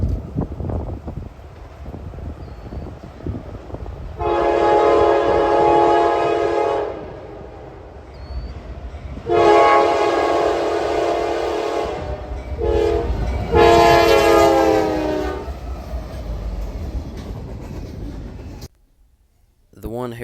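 Norfolk Southern SD70ACU heritage locomotive, built 1999 and rebuilt by Progress Rail in 2019, passing close by with three loud sustained horn blasts over rumbling wheels and wind noise, the sound cutting off abruptly at the end.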